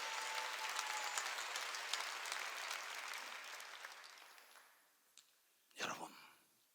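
A church congregation applauds during a Sunday worship service, a dense sustained clapping that fades out over several seconds, followed by a few isolated sharp claps near the end.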